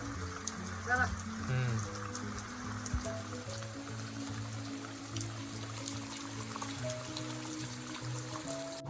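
A steady, heavy downpour drums on the ground in rainy-season Konkan, a continuous wash of water noise with brief voice-like sounds near the start.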